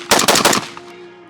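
An LMT MARS-L AR-15 rifle fires a rapid string of about four loud, close gunshots in quick succession, ending in a brief fading ring.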